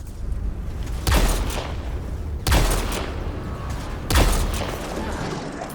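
Gunfire in the sci-fi shooter Mass Effect Andromeda: three loud, sharp shots spaced over a few seconds, each with a booming low tail, over a steady background of combat noise.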